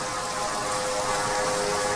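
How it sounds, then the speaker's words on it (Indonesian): Steady Minecraft rain in the video game, a dense even hiss of falling drops with faint tonal game music lines running beneath it, no voices. "Oh, hujan tuh."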